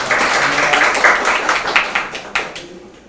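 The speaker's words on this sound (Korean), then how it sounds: "수고해주신 위원장님께 한 번 박수 한번 부탁드립니다." Audience applause for a committee chairman at a talk concert, a dense burst of many hands clapping close and loud, fading out over about three seconds.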